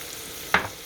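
Garlic dropped into a hot pan for pasta fagiole gives a sudden short burst of sizzling that flares sharply and fades within a fraction of a second, close and clear.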